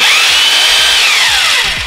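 A hammer drill runs steadily after routine servicing, giving a loud, close, high motor whine that holds steady and then drops in pitch as the drill winds down.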